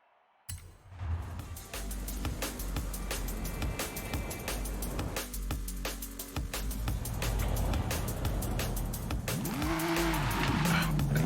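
Racing game car in Forza Horizon 5 revving steadily with engine drone and tire squeal building toward the end, continuous and fairly loud with no talk.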